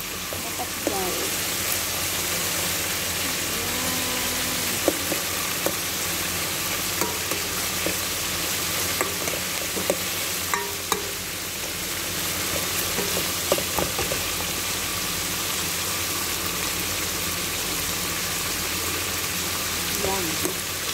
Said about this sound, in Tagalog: I-brown natin ang ating onion